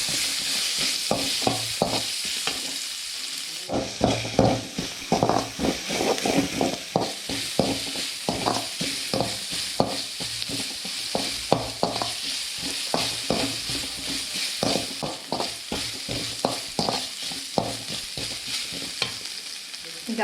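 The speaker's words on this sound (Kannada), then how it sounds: "ಈಗ ಈರುಳ್ಳಿ ಹಾಕೋತಾ ಇದ್ದೀನಿ." Onions frying with ginger garlic paste for Manchurian sizzle steadily while a spoon scrapes the pan in quick, rhythmic strokes, close and prominent throughout.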